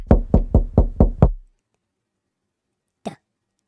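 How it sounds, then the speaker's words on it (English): Five quick, firm knocks on a door in an even rhythm, close and loud, followed by silence and then one short, faint sound after a pause. "Did you knock on my door?"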